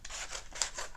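Vinyl being cut for T-shirt printing, a continuous close, soft scraping slice with repeated sweeping strokes and no voices.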